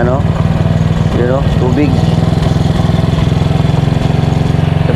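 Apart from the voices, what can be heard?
motorcycle engine started and idling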